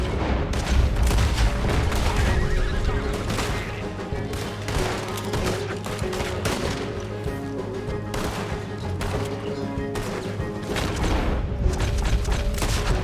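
Red Dead Redemption 2 gunfire in a Wild West shootout, dense continuous bursts of shots and booms layered over one another without pause, loud and close throughout.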